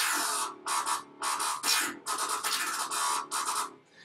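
A gritty synthesized bass made in Massive stutters and wobbles in rapid, uneven chops, its tone shifting as it pulses on and off.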